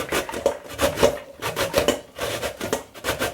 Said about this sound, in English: Get my grater here. I'm old school. I have an old